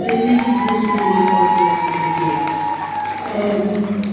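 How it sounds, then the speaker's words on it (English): An audience at a YouthConnekt Namibia youth event applauds and cheers in a sustained wash of clapping with raised voices mixed in, holding loud throughout before easing slightly toward the end. "give National Youth Council a round of applause"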